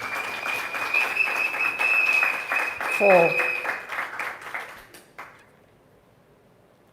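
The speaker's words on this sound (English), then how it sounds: "I want to thank them, give them a round of applause" Applause for a visiting senator and members of parliament, a crowd clapping under speech with a faint ringing tone, fading away near the end.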